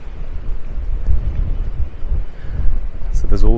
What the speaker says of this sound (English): It's very windy, hope you can still hear me.